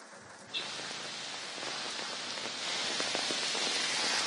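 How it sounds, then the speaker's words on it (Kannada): Heavy rain falling in Bengaluru around K.R. Market and Majestic, a steady hiss of drops on surfaces that starts abruptly and slowly grows denser and louder, with no voices. "ಅದೇ ಪ್ರಕಾರವಾಗಿ ಈಗ ಮಳೆ ಬರ್ತಾ ಇರುವಂತದ್ದು."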